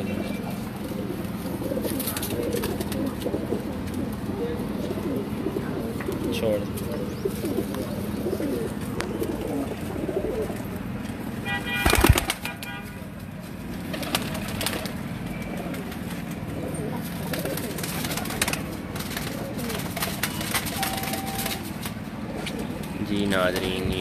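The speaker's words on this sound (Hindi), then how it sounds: "ये जी जोड़ों वाले कबूतरों का आपको शो करवा रहे हैं साहिवाल से उस्ताद मर्दाना की छत पे जी" Paired flying pigeons on a rooftop in Sahiwal, cooing and fluttering throughout alongside someone talking, with a sudden loud burst of wing flapping midway and faint traffic in the background.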